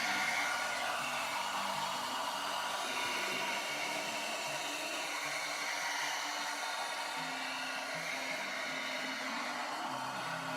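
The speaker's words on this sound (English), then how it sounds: "Sorry about the loud blow dryer, guys." A hair dryer runs continuously at steady volume, blowing air to dry paint on a Punisher figure, a constant broadband whoosh with no pauses and no voices.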